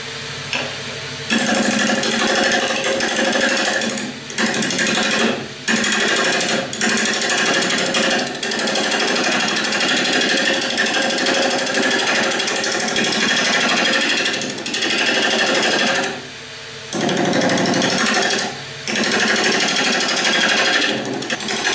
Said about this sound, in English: I'm going to try and use the roughing gouge because this is, the grain's going in this direction